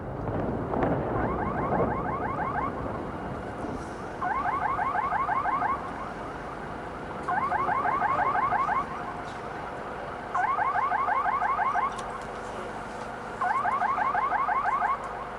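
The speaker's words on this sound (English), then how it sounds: "just there we heard a very loud explosion and the sounds of what could be a car alarm." A car alarm blares in repeating bursts of rapid warbling tones, about five cycles with short gaps, heard from a distance over wind and background rumble in wartime Iraq, 2003, after a loud explosion.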